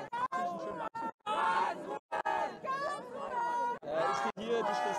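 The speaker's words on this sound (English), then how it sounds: "Crowd is cheering Karlsruhe, and the other bit of the crowd is cheering Darmstadt" Rival supporter sections of a crowd cheering for Karlsruhe and Darmstadt in the men's final of an ultimate frisbee Grand Slam tournament in Freiburg, heard as a loud, dense chatter of voices with shouts and chants and brief pauses.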